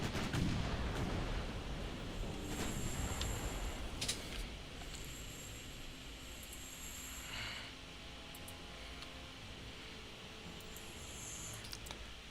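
Big naval guns fire in the Ultimate Admiral Dreadnoughts video game, heavy low booms rumbling early on and then fading into quieter distant thuds and faint mechanical tones.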